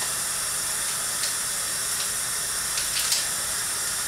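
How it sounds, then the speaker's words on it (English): Cold water runs steadily from a kitchen tap into a sink, a continuous close hiss and splash with a few brief louder spurts, heard alone with no talking. "turn on the cold water and allow the water to flow without splashing"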